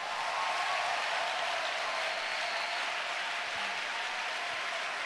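A church congregation applauds to acclaim Jesus, a dense, steady wash of clapping from many hands that holds evenly for several seconds without voices.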